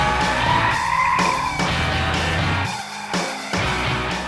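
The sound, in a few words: 2012 BMW M5 drifting on track with tyres skidding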